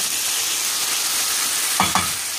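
Red onion frying in a pan, a bright continuous hiss that swells briefly with a couple of stirring scrapes near the end, close and fairly loud.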